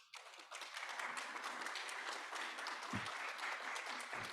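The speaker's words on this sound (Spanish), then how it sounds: "Me gustaría presentarles de primera instancia a la licenciada Yolanda Esquivel, a quien por favor solicito un aplauso" Audience applause swells after a speaker, Licenciada Yolanda Esquivel, is introduced at a logistics panel, a dense, even burst of clapping that holds steady for several seconds.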